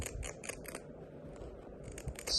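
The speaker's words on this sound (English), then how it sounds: "With my pinking shears, that just does it automatically, so that makes my life easy." Pinking shears trim around the fabric edge of an unlined sun hat brim, giving quick crunchy snips in short bursts, close and clear with no one speaking.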